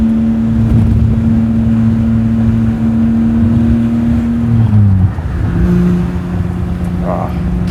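A BMW E30 with an S54 engine swap drives along with a steady, loud engine drone and a brief shift in pitch partway through, while people talk inside the car over the engine noise.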